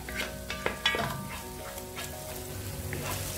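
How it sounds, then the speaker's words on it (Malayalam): Coriander and mint leaves sauté in a hot pan for kuska rice, a soft steady sizzle broken by a few sharp scrapes and clinks of the stirring spoon, close and fairly quiet, with no talking. "കുറച്ച് മല്ലിയിലയും ചേർത്തിട്ട് നന്നായി വഴറ്റിയെടുക്കാം."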